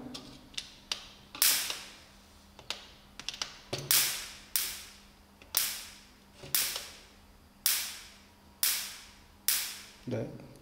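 Sharp high-voltage sparks snap from a mosquito-swatter circuit modified with a capacitor, firing about ten loud, close cracks at a steady pace of roughly one per second, each followed by a brief decaying hiss, with a low electrical hum underneath.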